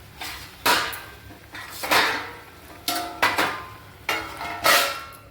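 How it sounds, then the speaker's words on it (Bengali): A lid clatters onto a cooking pot of simmering ridge gourd and potato curry, several sharp metallic clanks and rattles spaced apart, close and fairly quiet. "এবার এটা একটা ঢাকা দিয়ে একটু সেদ্ধ হবে"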